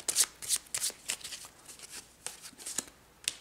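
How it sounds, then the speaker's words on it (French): A deck of cards from the God of War card game shuffled by hand, a rapid series of close, crisp riffling bursts and soft slides with no talk. "Puis, on mélange celui-ci."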